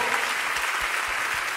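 A church congregation gives strong, sustained applause for its worship pastors, a dense and even roar of many hands that stays loud and steady throughout, with no voices standing out above it.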